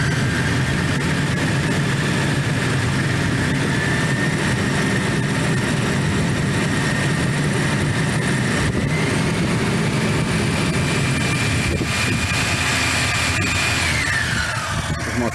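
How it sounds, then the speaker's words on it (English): A Toyota 1FZ-FE engine in an 80 Series idles in a steady, loud drone while the thermo clutch fan whirs along with it, its tone winding down as the fan shuts down near the end. "thermo clutch fan shutting down."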